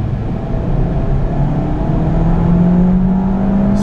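Peugeot car with a Prince engine accelerating in second gear, a steady loud engine drone whose pitch climbs gradually as revs build, heard from inside the car with constant road noise.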